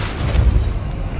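A Depulso spell cast in Hogwarts Legacy, heard as a single deep booming burst with a rumbling low-end thump that holds steady for about a second.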